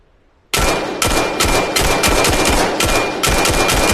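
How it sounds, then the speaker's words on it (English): Shotgun blasts in the VR shooter game Vail VR ring out loud and close, a rapid series of sharp reports about every half second after a quiet start, each with a booming low tail. "you hear how strong this shotgun is firing?"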